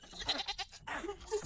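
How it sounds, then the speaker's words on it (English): Goats in a farm goat yard give several short, wavering bleats in quick succession, fairly faint and close together, with no talking over them. "annoying goats and dogs"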